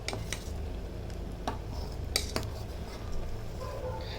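Food colour stirred into pumpkin kheer, a spoon clinking and scraping against a metal pot in a few quick strokes over a low steady background hum, close and without talk.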